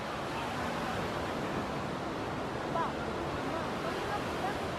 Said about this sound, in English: you can hear the waves and stuff, just like the commercial